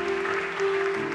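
A church women's gathering applauds to acclaim the Lord, a short stretch of dense, continuous clapping with a sustained tone underneath.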